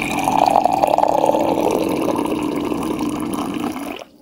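Water poured from a bottle, a steady splashing, gurgling stream lasting about four seconds before stopping abruptly, fairly loud and close with no talk.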